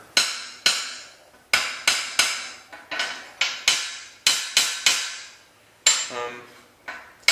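A hammer taps lead wheel weights about a dozen times at irregular intervals, each blow a sharp, bright metallic ping that rings and fades, close and clear against near silence.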